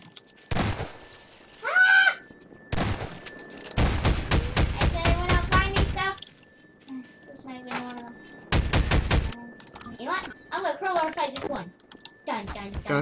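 Loud, widely spaced shotgun blasts and bursts of fire from the video game Garry's Mod cut in between stretches of near silence, with people talking across the gaps and under the shots.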